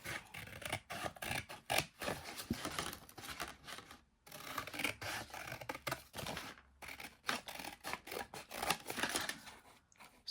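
Scissors snip steadily through a paper list of mini diamond painting canvases, making close, continuous crisp cutting and rasping sounds with brief pauses, no talking.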